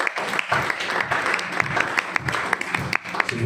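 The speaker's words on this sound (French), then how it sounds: "Est-ce qu'on peut acclamer pour la parole?" A church audience applauds during a sermon on repentance, a loud burst of clapping with sharp individual claps standing out, close and sustained for the whole stretch without speech.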